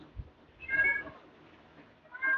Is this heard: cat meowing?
yes